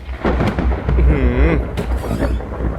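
A thunder strike in the horror video game Araya booms and rumbles loudly in the foreground, while a voice exclaims over the middle of it.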